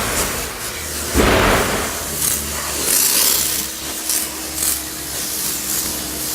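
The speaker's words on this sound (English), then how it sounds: "So the pressure washer is going to make short work of that as well." A pressure washer sprays the barrel of a car wheel, a hissing spray with harsh gusts and scrubbing bursts against a low motor hum, fairly close.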